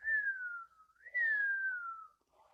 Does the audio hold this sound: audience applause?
no